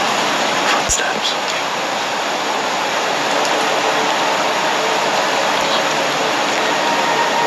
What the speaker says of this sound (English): there's a lot of noise from the raindrops